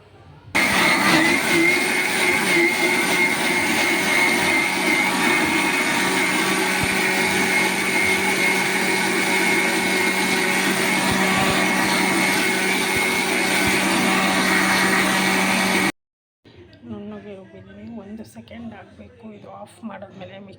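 A mixer grinder grinds masala paste with water for a mutton head curry, a loud steady motor whine running for about sixteen seconds before cutting off, followed by quieter kitchen noises.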